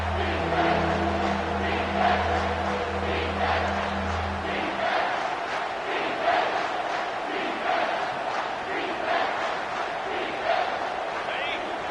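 A large football stadium crowd at a game against South Carolina roars steadily and loudly throughout, a dense wash of cheering that swells slightly in places, with a low tonal hum underneath during the first few seconds.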